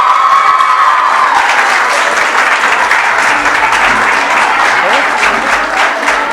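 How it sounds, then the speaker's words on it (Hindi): Loud, sustained applause from a large audience at a Sanskrit youth festival closing ceremony, with a dense wash of clapping and crowd noise throughout. "जोरदार तालियों के साथ अभिनंदन कीजिए दिगंबर जैन संस्कृत कॉलेज।"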